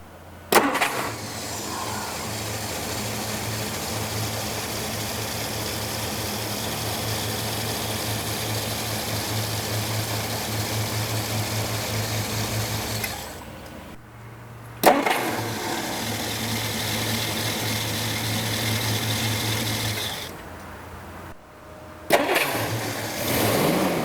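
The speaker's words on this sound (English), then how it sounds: "this is the 259 V8 engine" A 1961 Studebaker Hawk's 259 V8 cranks and fires, then settles into a steady, fairly loud idle close by; the engine cuts off and restarts twice, each start bringing a brief rise before idling again.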